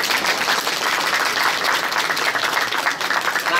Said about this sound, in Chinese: 那我们也为高铁工程局哦掌声鼓励一下好不好？